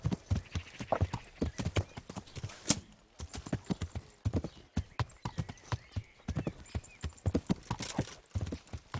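Horse hooves clip-clop in a fast, uneven galloping rhythm, loud and close, with a brief horse whinny partway through, in the video game Kingdom Come: Deliverance.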